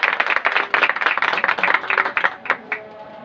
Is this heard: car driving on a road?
no